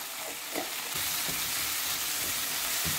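Chopped tomatoes and onions with a pinch of turmeric sizzle steadily in a hot pan while a spoon stirs them, soft scraping taps breaking through a constant close frying hiss.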